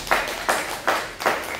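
Audience clapping in short bursts, four rhythmic swells of applause at a training seminar, fairly near and moderately loud with no talk over it.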